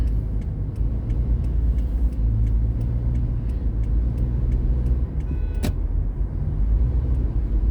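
A vehicle drives fast along a road with light traffic, giving a steady, loud rumble of engine and tire noise from start to finish, with a brief sharp click near the end.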